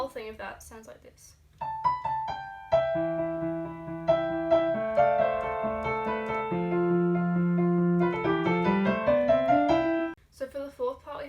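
Piano playing a section of a theme song, with both hands: a flowing melody over sustained lower notes, close and steady. Brief talking comes just before and right after.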